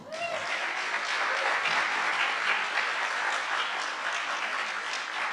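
Sustained audience applause at a general meeting, a dense even patter of many hands clapping at moderate volume throughout, with no speech over it.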